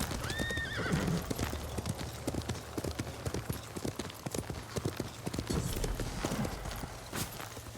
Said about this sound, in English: I'm stealing your horse.